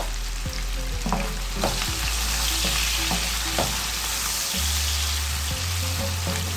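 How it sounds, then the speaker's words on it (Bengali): Onions softening in hot oil in a pan, a steady bright sizzle with occasional spatula scrapes and knocks, close and fairly loud, no voices. "দিয়ে দিলাম পেঁয়াজ পেঁয়াজটা একটু নরম করে সেদ্ধ করে নেব"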